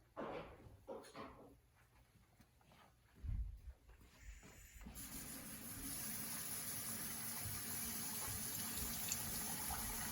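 Water gushes from a tap into an enema bag with a steady rushing fill, preceded by a few light clunks and handling sounds nearby.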